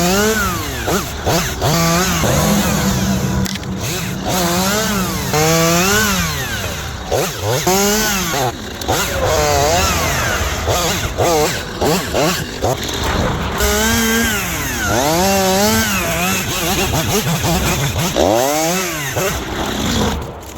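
A chainsaw engine roars up and down in repeated revs while cutting tree branches, loud and close, with a voice talking over the din.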